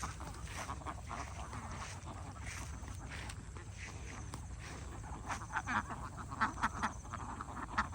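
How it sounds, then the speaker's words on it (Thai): A large flock of about 1,100 ducks in a pen quacks and chatters continuously, a dense overlapping din that swells louder toward the end. "บรรยากาศ เล้าเป็ดของเรานะคะ"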